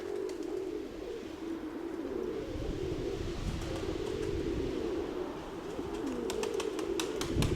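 Pigeons coo steadily and close by in a Ukrainian pigeon loft, soft repeated calls layered over a constant background hum, with faint chirps and clicks toward the end.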